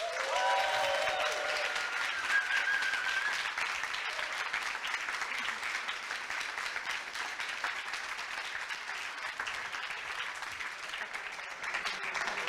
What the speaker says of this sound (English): They deserve a huge round of applause again